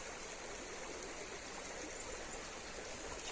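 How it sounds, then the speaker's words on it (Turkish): A stream flows steadily in the distance, a soft, even rushing with no breaks and no voices. "hem oradan dere akıyor hem buradan mı dere akıyor?"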